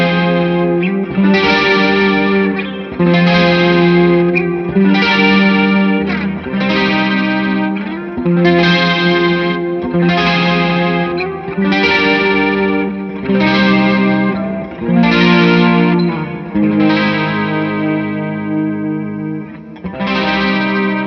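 Electric guitar through a Lightspeed overdrive with reverb and a Walrus Julia chorus pedal on top plays a steady riff of sustained, wavering chords, roughly one strum every one to two seconds, loud and up close with no talking.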